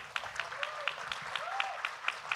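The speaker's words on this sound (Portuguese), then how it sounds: "um aplauso para o Afonso Borges e toda a equipe." Audience applause at a literary event, heard as faint, steady rhythmic clapping at about four beats per second, with a couple of brief whistle-like tones over it.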